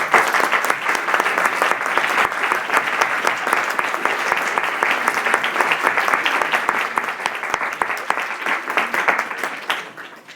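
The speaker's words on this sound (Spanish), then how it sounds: "Un aplauso." Audience applause following a lecture introduction at a literature talk, sustained dense clapping from a sizable crowd that holds steady for about ten seconds before tapering at the end.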